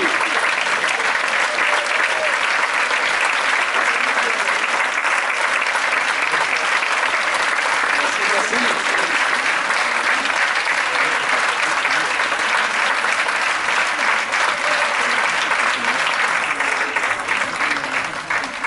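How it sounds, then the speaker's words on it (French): A theatre audience breaks into sustained applause after a film screening, a dense, even roar of many hands clapping that holds loud and steady for nearly twenty seconds. "On vous applaudit."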